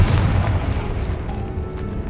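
A heavy, booming fiery blast from the Confringo spell in Hogwarts Legacy on PS5, loud and rumbling with a deep low roar that slowly fades over about two seconds.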